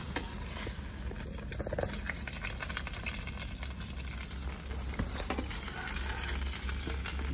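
A spiced vegetable curry hits a hot frying pan with freshly fried paneer, giving a steady, close, dense sizzle with crackling bursts and light stirring clatter that holds at an even loudness throughout, with no speech.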